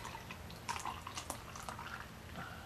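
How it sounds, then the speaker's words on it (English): Ybor Gold Amber Lager poured aggressively into a glass to raise a head, a soft, quiet stream of liquid with faint splashing and dripping, close and steady for under three seconds, with no talking. "I'm going to pour this kind of aggressively so I can get a head on here"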